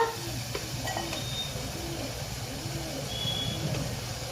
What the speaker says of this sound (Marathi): मसाला चांगला भाजून घ्या मसाला चांगला भाजून घेतला का टेस्ट चांगली येते